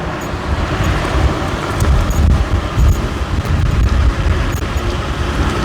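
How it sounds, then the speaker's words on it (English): A Teverun Blade GTII electric scooter accelerates at full throttle on a road, its motor whine mostly buried under steady loud wind rush and nearby traffic noise, with no talking. "So I'm maxed out now on the throttle, and this is the pickup."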